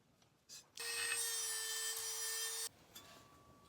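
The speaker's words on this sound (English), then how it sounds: "I just remembered, we've got a Dremel." A Dremel rotary tool grinds the edge of an old circular saw blade being shaped into a knife, giving a single steady high whine of about two seconds between short quiet pauses.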